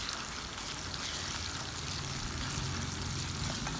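Rice and garlic are tipped into hot oil to fry for fermented pork ribs, giving a constant crackling sizzle with a low bubbling underneath, steady and close throughout.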